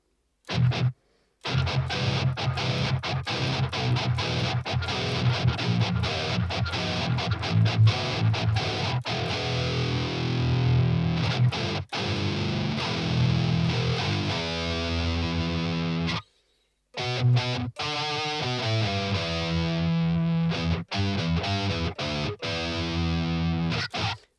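Electric guitar through the Rhino distortion plug-in on iOS with the gain fully cranked: loud, saturated riffing and heavy low-string chugs play continuously, broken by two short silent gaps.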